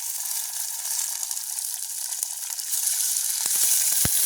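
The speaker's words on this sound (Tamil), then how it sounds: "மிளகாய் வெங்காயம் உள்ளி எல்லாம் நல்ல வடிவாக வதங்கட்டு" Chilies and garlic sautéing in a pan of hot oil give a steady, close sizzle with no voices, joined near the end by a few sharp crackles and pops.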